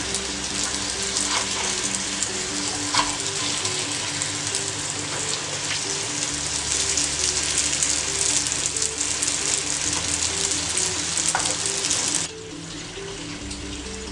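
Chicken omanapola frying in a pan on a medium flame, a loud continuous hiss and crackle of sizzling oil that holds steady, then drops suddenly near the end.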